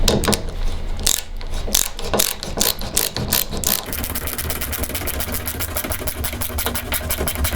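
A manual ratcheting screwdriver drives a screw into pool table slate. Steady, loud clicking starts at a slower, uneven pace and then settles into a fast, regular ratchet rhythm close by.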